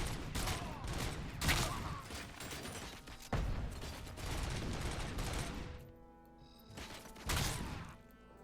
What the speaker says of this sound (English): Taking fire from somewhere. Oh, that MG is back active.